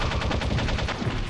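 Rapid gunfire in the video game Metal Gear Solid, a dense, loud burst of repeated shots running continuously with no pauses and no voices.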